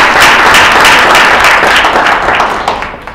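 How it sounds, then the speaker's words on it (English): A crowd applauds steadily, dense clapping filling the space and tapering slightly toward the end. "a big round of applause"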